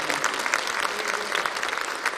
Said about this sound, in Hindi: इस बात पर भी एक बार जोरदार तालियां बजाइए